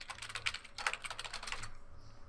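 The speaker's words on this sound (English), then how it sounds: "God damn, I can't type." Quick bursts of clicky keystrokes on a computer keyboard, rapid and close, pausing briefly before trailing off into quiet room tone.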